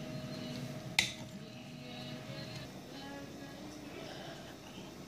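Tamarind chutney (imli) being dished out from a cooking pan into a serving dish, one sharp metal-on-dish clink followed by quiet scraping and handling sounds, with faint room noise behind.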